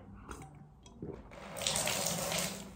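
A kitchen tap turned on to fill a glass with drinking water: a few faint clinks, then a steady gushing stream into a sink that runs loudly for over a second.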